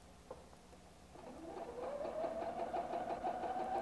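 Husqvarna Viking Platinum 770 sewing machine running, a steady motorized whir that builds after a quiet start and holds at a constant pitch, close and fairly loud with no talk.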